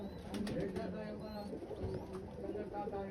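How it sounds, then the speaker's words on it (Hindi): Pigeons of various breeds coo softly on a rooftop in Pakistan, low repeated calls mixed with faint chirps and someone talking over them. "हम इस वक्त कबूतर दिखाए जा रहे हैं, ये इनके वैशी कबूतर हैं"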